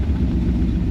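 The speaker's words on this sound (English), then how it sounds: "It should be warm, so it should fire right up" A warm car engine fires up and settles into a steady low rumble, loud and close, with no voices over it.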